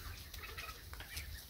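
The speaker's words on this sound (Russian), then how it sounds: "как он квокчет" Rooster clucking softly near a group of ducklings or chicks on a farm, a faint, low murmuring cluck repeated over steady background noise.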